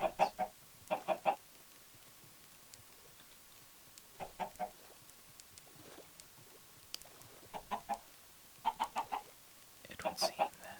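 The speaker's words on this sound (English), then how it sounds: "Like chickens that follow our seeds." Minecraft chickens cluck in short bursts of three or four clucks, repeating at intervals over a quiet background with occasional faint clicks.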